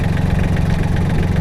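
A flail mower's engine idles steadily, a close, loud, low rumble with a regular throb and slight knocking texture throughout, no voices over it.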